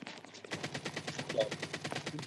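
Rapid automatic gunfire in an online shooter game: a steady, fast stream of shots, fairly faint, running through the whole short burst with a voice faintly underneath.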